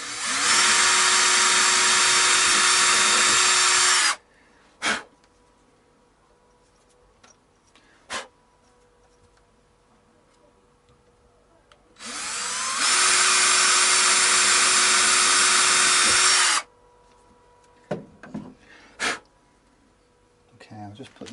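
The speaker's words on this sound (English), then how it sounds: "So 2 more to drill, pilot holes to drill." A power drill whirs in two sustained bursts of several seconds each while drilling pilot holes for a Harley Benton guitar bridge, loud and close, separated by quiet stretches with brief clicks and knocks.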